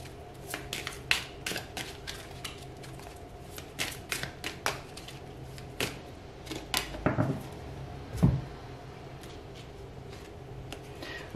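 Tarot cards are shuffled and handled close to the microphone in a quiet room, with a quick series of soft flicks, taps and riffling snaps at an irregular rhythm.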